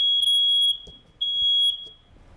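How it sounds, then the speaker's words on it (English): A smoke detector goes off in an apartment building, two loud piercing high beeps, each lasting about half a second with a short gap between them, followed by faint background rumble. "the smoke detector just went off in the apartment building"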